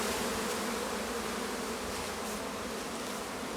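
A returning honeybee swarm at an apiary fills the air with a dense, continuous buzz of many bees, close and steady throughout.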